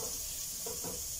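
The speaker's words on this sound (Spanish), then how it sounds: "aquí le voy a vaciar los nopalitos para que se dore un poquito ahí con la carne" Nopales browning with meat in a pan, a steady soft sizzle close by with faint stirring scrapes, no voices.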